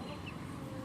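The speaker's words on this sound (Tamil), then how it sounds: "கோழி." A chicken gives a short, faint cluck in a brief, quiet moment against low background noise.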